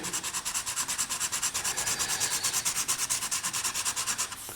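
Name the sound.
sharpening a pencil lead on a sandpaper board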